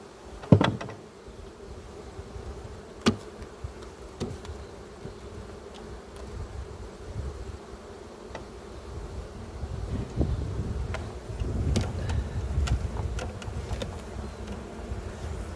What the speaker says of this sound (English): just to entice the bees to go up in there